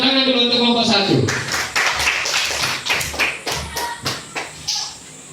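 A classroom of students claps loudly and rhythmically for a group in a lesson on halal food, following a moment of speech, with the beats gradually spreading apart.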